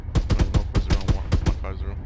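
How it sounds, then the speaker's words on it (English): Machine gun fire in Arma 3 co-op gameplay rattles in rapid, loud bursts of about a dozen closely spaced shots, heard up close and alone. "it was MG fire"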